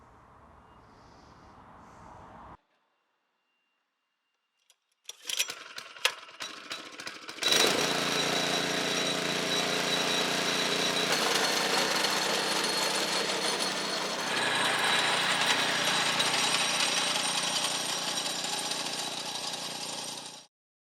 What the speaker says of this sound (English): Today we're going to be aerating the lawn with this thing here, but we're just going to be using the very small spikes